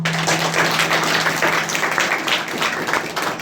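Audience clapping at a youth meeting, a busy, uneven patter of many hands spread across several seconds, fairly loud and close with no talk over it.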